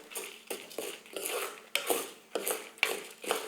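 Sorrel leaves being roasted in a pan for a village-style chutney: quiet, repeated scraping and stirring strokes with soft metallic clinks against the pan, roughly twice a second, and no voices.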